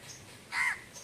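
A crow perched up in a tree at dusk caws once, a single short, fairly close call rising over quiet background air, with no talking.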